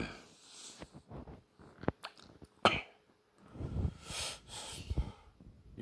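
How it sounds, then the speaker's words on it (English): A few short, rough throat-clearing bursts and snorts come close up with pauses between them, followed by a longer raspy stretch of breathy throat noise. "Let me clear my throat."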